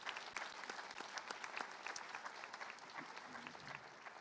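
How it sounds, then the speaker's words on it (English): An audience at a 2023 high school graduation ceremony applauds the staff with a steady wash of clapping from many hands, fairly distant, with no single voice standing out. "Let's give them a round of applause."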